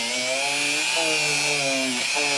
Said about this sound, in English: I've been hitting it with this buffing wheel on my Dremel at a fairly slow speed